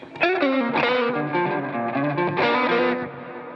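Distorted, fuzzy electric guitar through a fuzz effect on the neck pickup plays a warm, rounded chord-and-note phrase, sustained and fairly loud, with no voices.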